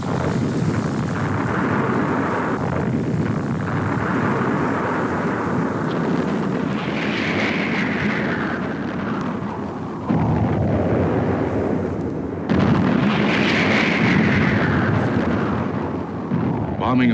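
Airstrikes and bomb explosions along the Ho Chi Minh Trail during the Vietnam War, heard as sustained rumbling blasts and roaring aircraft passes, loud and continuous, with narration spoken over them.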